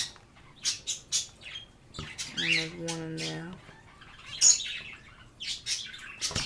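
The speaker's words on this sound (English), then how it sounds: "now all I have are 4 finches." Four finches in a cage give scattered sharp chirps and a short run of buzzy calls, fairly close and moderately loud, while a person speaks briefly nearby.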